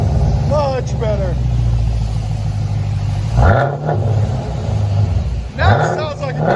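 A car with a Flowmaster muffler fitted, its exhaust idling with a deep, loud rumble and then revving twice in short swells, recorded close.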